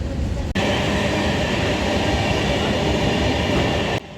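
A train at a railway platform on the Bauria to Bagnan route roars loudly and steadily, a dense rumbling rush with rattling wheels that cuts in sharply and stops abruptly.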